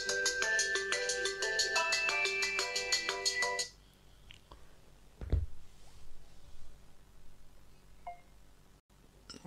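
A lost phone rings through a Find My Mobile play-sound alert, a loud repeating tonal ringtone for about four seconds that then stops, leaving faint clicks, a low thump and quiet room noise.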